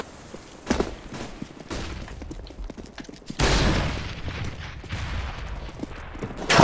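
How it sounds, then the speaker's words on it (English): Rapid gunfire from the video game Counter-Strike: Global Offensive, including revolver shots through walls: sharp close bursts and single cracks come in quick irregular volleys, with a heavier sustained barrage in the second half. "I shoot through the walls so you don't have to."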